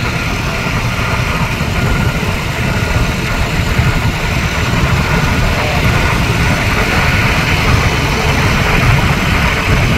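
A Honda Activa scooter engine drones steadily while riding on a highway across the Vashi creek bridge in Mumbai, a loud, constant hum blended with rushing wind roar and no clear pauses.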